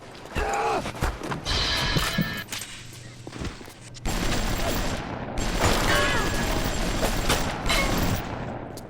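In BioShock, set in the underwater city of Rapture, dense gunfire erupts in rapid bursts with sharp mechanical clacks, a brief lull, then another heavy volley, all under occasional game voices.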